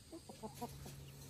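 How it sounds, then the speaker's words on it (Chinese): A bald little black chicken gives a quick run of about five soft, low clucks, close but quiet, over a faint background hum. "骗一下秃头小黑鸡，他在这里等我张开手心"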